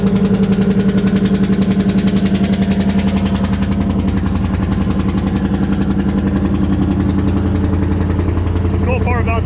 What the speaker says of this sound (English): The cool part about those Fairbanks and Morris engines is it didn't matter which way, they would run either way.